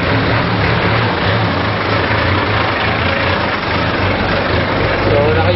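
A motorcycle engine running steadily while fuel consumption is checked, a loud continuous low rumble at near-constant pitch, with a voice talking over it.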